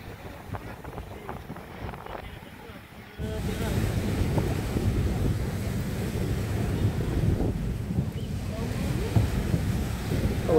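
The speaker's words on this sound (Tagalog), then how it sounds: "Malakas ang hangin oh." Strong wind at a seashore at Bucana blows across the microphone with surf behind it. A quieter gusty stretch gives way to a sudden, loud, sustained roar and buffeting that carries on to the end.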